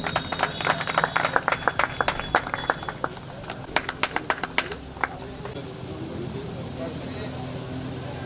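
Short rounds of hand clapping from a small gathering at an office inauguration in Chilla village, East Delhi, sharp irregular claps in bursts that fade out, with voices talking in the background.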